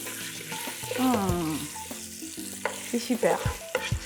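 A cordon bleu, potato and garlic ragout is stirred in a pan, with scraping and clicking of the utensil over a soft sizzle while a person speaks briefly.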